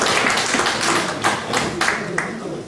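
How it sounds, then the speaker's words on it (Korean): A hall of attendees claps at a regional residents' autonomy association inauguration ceremony as an appointment certificate is presented. The applause is a dense, steady wash of many hands that swells in a few bursts and then tapers. "예, 큰 박수 부탁드립니다."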